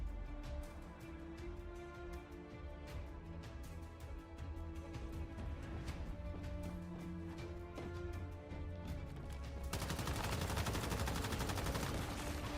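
Rapid bursts of gunfire from uncalibrated guns in Once Human, close and loud over a steady game backdrop, with the shots thickening into a dense roar near the end.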